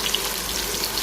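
Onions frying on a high flame, giving a steady, close hiss of sizzling oil that runs unbroken through the moment with no voices.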